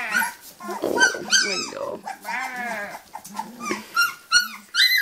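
Low growling from a dog around a three-week-old puppy litter, faint and rumbling beneath a woman's cooing, sweet-talking voice that continues throughout.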